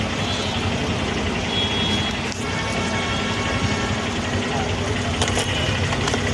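Heavy road traffic rumbles nearby with continuous engine drone from trucks and cars, a brief passing whoosh, and faint intermittent horn-like beeps, while a voice talks over it.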